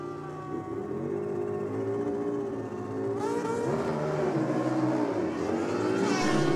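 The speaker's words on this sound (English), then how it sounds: "He's taking on this very nice sounding Harley down here in the rocket lane." Drag racing motorcycles, a 750 with nitrous and a Harley, rev at the line and then launch, their engines climbing in pitch as they accelerate away, loud and mid-distance.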